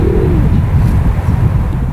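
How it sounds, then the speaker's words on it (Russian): Pigeons cooing and other birds calling near a trash dump by a rail stop, close and loud over a dense rumbling outdoor background. "Пение птиц – единственное, что украшает территорию вблизи остановки 1533 километр"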